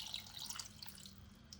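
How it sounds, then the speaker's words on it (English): Cold water runs into a cooking pot from a tap, a faint, steady splashing trickle with no voices. "let's put some water in there"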